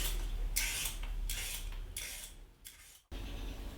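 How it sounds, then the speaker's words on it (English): A handheld vegetable peeler scrapes along raw potatoes in four or five quick, close, rhythmic strokes, each a soft bright rasp, followed by a brief pause. "with my trusty vegetable peeler, I'm gonna peel the potatoes"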